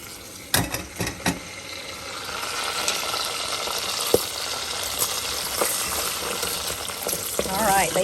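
Bacon sizzles and crackles in a pan on a home kitchen stove, a steady frying hiss with a few louder clatters and stirring knocks early on, heard alone without talk.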